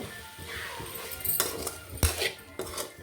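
Ground masala being stirred into chicken frying in a pan, a metal spoon scraping and clinking against the pan several times in an irregular rhythm, with a louder knock near the middle, close and fairly quiet.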